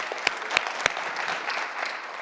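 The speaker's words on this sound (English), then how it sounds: "You should applaud for that" Steady applause from a panel audience at a women's business conference, a continuous patter of clapping with a few sharp, close claps standing out near the start.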